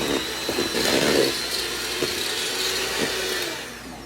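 An electric mixer creams cookie dough at higher speed, a steady loud motor whine with slight wavering pitch and faint beater rattle, running continuously without any talk.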